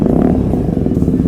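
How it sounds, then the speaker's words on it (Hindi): A KTM Duke 390 motorcycle revs in a parking area, its engine a loud, close, rough roar with a rapid throbbing pulse through a short burst. "तो रेव करके दिखाता हूँ भाई, आवाज़ क्या आ रहा है पार्किंग में"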